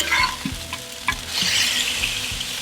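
Ground chuck smash burger patties sizzling on a Blackstone griddle, a close bright hiss that swells midway, broken by a few metallic spatula taps and scrapes.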